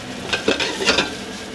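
Salt and pepper corn with fried garlic and spring onion is stir-fried in a wok over high heat. Sizzling runs throughout, with a few quick tossing and scraping strokes clustered in the middle.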